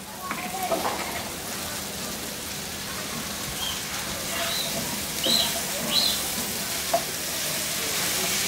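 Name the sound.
drumsticks (sajna) frying in a pan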